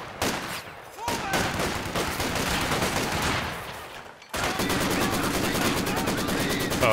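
Rapid machine gun fire from Company of Heroes during a 4v4 match on the Red Ball Express map, with loud, fast, regular bursts over dense battle noise and a harder, steadier stream after a short gap.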